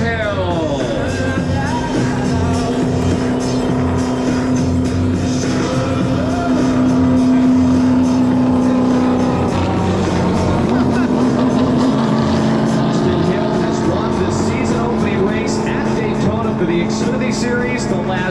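A Chevrolet race car in a NASCAR event at Daytona drones continuously with a steady engine tone after the race win, loud throughout, under an announcer's voice.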